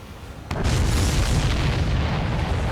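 Explosions in the flight combat game Ace Combat 7 set off a sudden heavy boom, followed by a sustained, loud rumbling roar that fills the rest of the moment.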